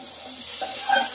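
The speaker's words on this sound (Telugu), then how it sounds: "ఇప్పుడైతే ఇదిగో ఇవైతే వేస్తున్నాను ఇందులో చికెన్ పీసులు" Chicken pieces frying in hot oil for a chicken fry, a brief, steady, close sizzle.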